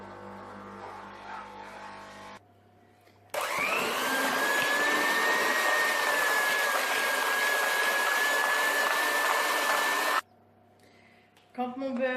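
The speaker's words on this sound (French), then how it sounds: "à l'aide de mon batteur à main, je vais venir battre le beurre en ajoutant" An electric hand mixer beating butter and caster sugar into a cream for a chocolate-chip sponge cake, a steady loud whirring drone running for about seven seconds, with quieter speech before and after.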